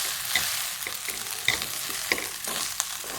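Vegetable pulao with carrots and peas being stirred and mixed in a pan: continuous gentle frying hiss broken by repeated scraping and light metallic clinks of a spoon.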